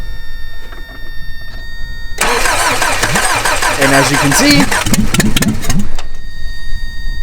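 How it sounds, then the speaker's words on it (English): A 1986 Toyota 4Runner engine cranks and catches after a couple of seconds, then runs at a loud, rough, uneven idle for several seconds before dropping away, with someone briefly talking near the start. "it's actually starting. Yes, that's the engine."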